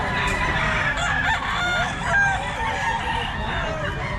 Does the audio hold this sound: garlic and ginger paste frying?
no